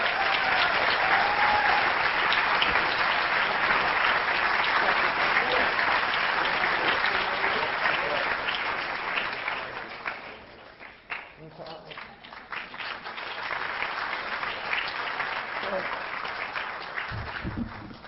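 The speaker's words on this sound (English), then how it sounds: "Thank you for the applause and thank you for coming." Sustained applause from a large audience at an American letters award ceremony honoring Stephen King, dense and steady for about ten seconds, then fading to a lull before rising again.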